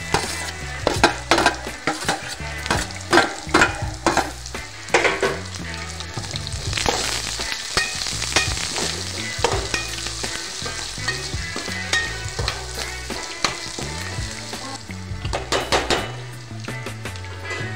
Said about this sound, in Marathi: आता मी यामध्ये हिरवी मिरची टाकून घेणार आहे।